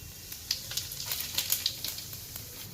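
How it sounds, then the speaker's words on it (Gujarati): Cumin seeds crackle and sizzle in hot oil for tempering, a dense close spattering with quick popping bursts throughout the short moment. "વઘારમાં સો ગ્રામ તેલ લીધું છે એનો વઘાર મારી દઈએ પાંચ ગ્રામ જીરું નાખીએ છીએ"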